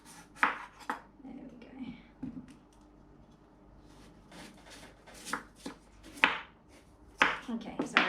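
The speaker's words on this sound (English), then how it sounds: "I'm just going to slice the end bit off" A knife slices the end off a sweet potato on a kitchen board, giving several sharp close cuts and taps in irregular rhythm, with a brief spoken word near the end.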